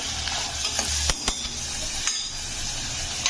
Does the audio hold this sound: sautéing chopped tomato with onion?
yes